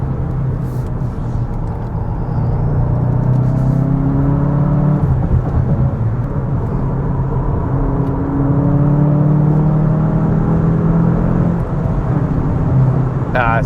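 A 2025 VW Jetta GLI engine with manual transmission drones and rises in pitch as it accelerates, loud and close, with gear changes and a steady road rumble underneath.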